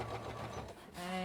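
A sewing machine runs in one quick, continuous burst while stitching a wiggle line down the center of a Yazzii bag, close and even.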